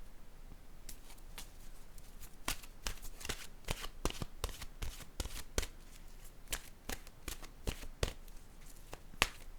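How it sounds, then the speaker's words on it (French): An oracle card deck being shuffled by hand, a long series of crisp riffling snaps and flicks in an uneven rhythm, close and soft, with no talking. "Je vais piger maintenant une carte de mon oracle de l'âme intuitive."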